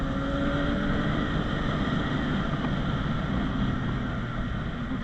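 A CFMOTO 675NK motorcycle fitted with an Akrapovic cat-delete exhaust rides through heavy traffic, its engine giving a steady, continuous drone mixed with wind rush, with no talking.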